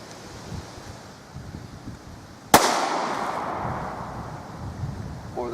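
A single sharp pistol shot cracks loudly from a Smith handgun fired at Mountain Dew cans. A washy outdoor rumble of wind and the burst can's spray follows and fades over the next few seconds.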